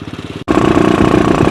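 A modified Royal Enfield Thunderbird 350 single-cylinder motorcycle engine runs with a steady, loud, rapid thumping beat, broken by a brief gap before the pulsing resumes close by.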